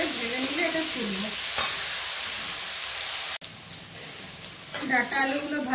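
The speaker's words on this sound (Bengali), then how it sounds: "ডাঁটা আলুগুলো ভাজা হয়ে গেছে" Drumstick stems and potato pieces frying in oil with turmeric and salt, a continuous loud sizzle with stirring scrapes, a voice talking over it.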